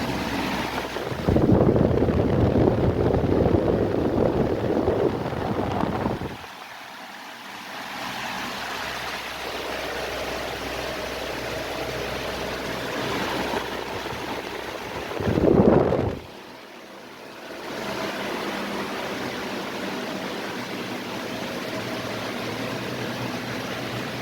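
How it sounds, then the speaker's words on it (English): A 1960s GEC Genalex 18-inch (450 mm) exhaust fan spins at about 900 RPM, giving a steady, close, airy whoosh that drops away briefly twice before resuming. "the fan is spinning at around 950, or I think not 950, it's like 900 RPM"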